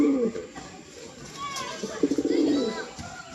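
A pigeon coos close by in a few soft, throaty bursts, the longest a rapid rolling series near the end, with faint voices and outdoor background around it.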